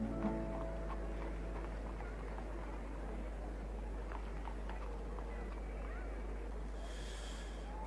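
Horse hooves clip-clop steadily on a hard surface under a strong low hum, with faint voices in the background.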